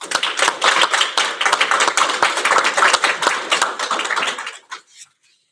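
A graduation audience for adult-education sterile processing students breaks into brisk, dense clapping that holds steady, then thins out and stops near the end.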